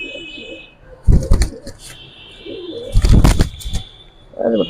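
Military Lalpatti hemar pigeons in a cage coo softly in short low phrases, broken by two loud bursts of fluttering or shuffling close by, with faint voices in the background.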